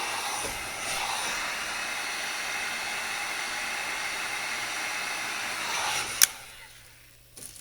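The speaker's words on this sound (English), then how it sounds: "Let's hit this again with the heat gun" A heat gun blows hot air over a trophy in a steady, close, breathy whoosh that runs for several seconds, then cuts off with a click and a short rattle at the end.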